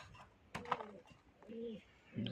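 Giribaz pigeons, a pair of male and female Bengali flying pigeons, give a few short, low cooing calls close by, spread over about two seconds with quiet gaps between them.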